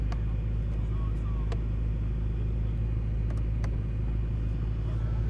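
A 2023 Chevrolet Corvette Z06 pulling away: a steady low engine rumble heard from inside the cabin, even and continuous throughout.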